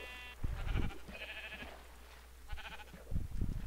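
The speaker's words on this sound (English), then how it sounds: "there's two sheep here" Sheep bleating in Minecraft, a few short, wavering game-sound bleats from two nearby sheep, spaced apart over quiet background, one clear call then another a second later.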